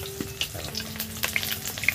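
Lote, or Bombay duck, fish fry in a generous amount of hot oil, giving a dense, bubbling sizzle with scattered crackles and pops, close and steady.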